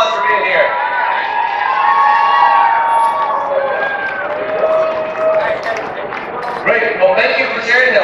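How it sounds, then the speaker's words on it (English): Audience at a wild film festival in Tennessee cheering and clapping for a guest, a loud crowd roar with shouts and whistles, voices mixed in throughout. "Let's give her a round of applause for being here."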